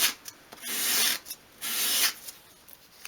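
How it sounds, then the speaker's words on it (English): Wooden edges of a 1/12 scale miniature stool are rubbed back and forth on sandpaper, giving two longer rasping sweeps with short scratches between them, close and fairly quiet. "hold it against the sandpaper at a 45-degree angle and sweep it towards you"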